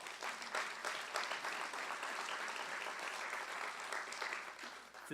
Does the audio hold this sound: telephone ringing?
no